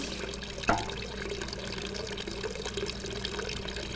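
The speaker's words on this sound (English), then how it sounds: "my water's continuously running" A tap in the video game Hello Neighbor runs steadily, a constant close rush of flowing water with one brief knock near the start, heard with no talk.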